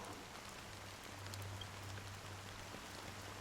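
Steady rain falls in Honkai: Star Rail, a soft, even patter that hisses faintly and continuously in the background with no voices.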